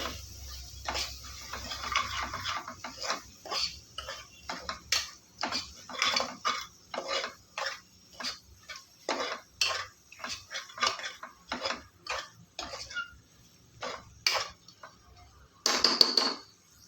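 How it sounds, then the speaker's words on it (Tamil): A spoon clinks and scrapes repeatedly against a metal pot while stirring spices for vada curry, in an irregular rhythm, close up, with no talking. "இப்போ ஒரு தடவை நல்லா கலந்து விட்ருங்க"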